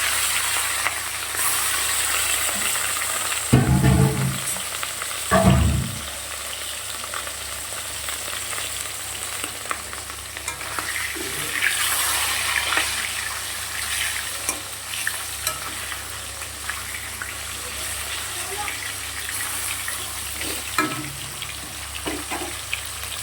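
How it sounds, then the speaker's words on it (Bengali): Katla fish pieces lightly frying in hot oil, a steady crackling sizzle throughout with a couple of louder bursts and stirring clatter early on, no voices. "আমি একদম হালকা ভাজবো, একদম কাঁচা রান্না করবো না, হালকা ভেজে তুলে নেব"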